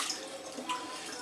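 Used rinse water from an Aeropress coffee maker poured away, a brief soft splash and trickle up close.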